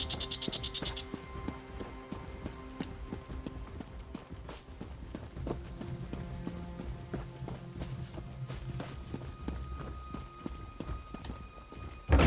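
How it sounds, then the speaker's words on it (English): Horse hooves clip-clop steadily in Elder Scrolls Online, a brisk rhythmic patter of hoofbeats running throughout over layered game music and ambient tones. "Horsey."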